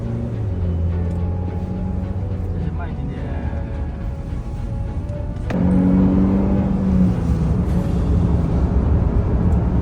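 Chery Arrizo 8 Pro with a 2.0T engine driven on a race track: a steady, droning engine note that grows louder and fuller about halfway through, heard from inside the car under continuous talking.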